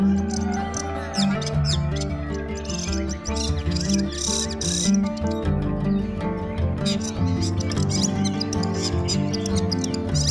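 Long-tailed shrike (cendet) chirping in short repeated calls, set against a dense, continuous layer of other sounds that keeps the birdsong partly masked throughout.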